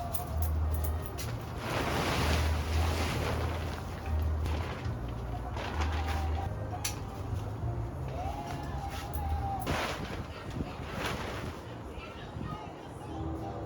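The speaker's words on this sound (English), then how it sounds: "The wind is blowing right now, and this building is like a sail." Wind gusts buffet a Harbor Freight 10 x 17 portable car canopy, a steady broadband rush with low rumbling pulses that swell and ease throughout.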